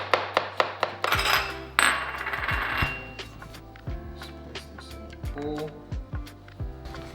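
A knife slicing a white onion very thinly on a cutting board, a quick series of crisp close taps and clicks with a sizzling burst from a nearby pan partway through.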